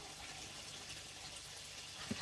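Water runs steadily into a koi pond to top it up, a faint continuous trickling gush heard from a short distance, with one small splash near the end.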